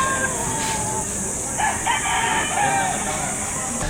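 A rooster crows repeatedly at an outdoor chicken market behind a shopping mall in Lipa, Batangas, its calls rising over a steady crowd din and scattered clucking, with people talking nearby.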